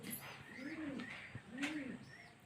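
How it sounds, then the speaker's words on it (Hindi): Pet pigeons cooing softly after a day of fighting, with repeated low, rolling coos and faint chirps on a quiet rooftop, at modest distance. "अब एती देखो हमारे कबूतर मन कैसे लड़ाई हुआ थे, वह दिन भर लड़त रही थी।"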